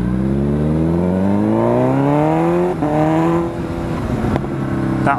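A straight-piped Kawasaki Z900 motorcycle revs loudly while riding, its engine note climbing through the gears and dropping on each shift, close and raw with wind noise underneath.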